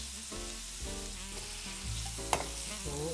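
King prawns fry in a pan for a restaurant-style biryani, giving a continuous soft sizzle with a tonal background underneath and one brief clink near the end.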